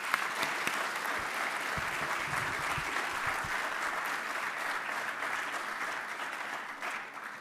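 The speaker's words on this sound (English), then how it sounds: "Let's give him another round of applause." Sustained applause from a large audience at a university inaugural lecture, steady and dense clapping throughout with no voices standing out.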